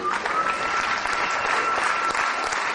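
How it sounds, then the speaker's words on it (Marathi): Dense, steady applause from an audience at a ceremonial stage event where a guest is invited up for a lamp-lighting, sustained and loud throughout with no break. "मला खात्री आहे आपण टाळ्या वाजवायला आज बिलकुल"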